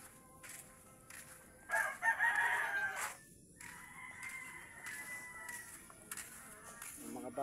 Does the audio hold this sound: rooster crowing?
yes